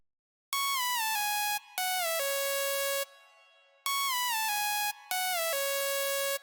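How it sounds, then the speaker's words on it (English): A bright Serum 2 synthesizer preset plays a sequence of sustained notes with rich harmonics, stepping through a short melodic pattern with brief gaps, repeated twice. "That was really bright kind of preset sound"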